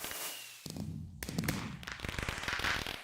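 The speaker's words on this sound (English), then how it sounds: "You see that giant firework there?" A giant firework bursts in the space game Project Singularity: a loud crackling blast breaks into a dense run of popping, snapping reports that keep rattling on for a few seconds.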